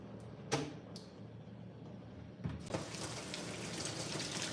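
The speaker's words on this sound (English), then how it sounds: "I'm washing my hands with soap and water" Tap water runs while hands are washed with soap at a kitchen sink, a steady close stream with a few sharp splashes and clatters near the start, heard without talk.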